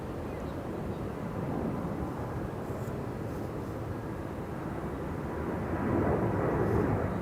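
A Boeing 787 Dreamliner airliner taking off from Schiphol's Polderbaan runway, bound for Punta Cana: a broad, steady jet roar held at even loudness that swells slightly near the end, heard from a distance.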